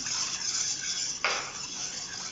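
Coffee dissolved in milk is poured into a pan of sugar while making coffee crunch ice cream, a close, steady liquid rush with a brief louder splash midway.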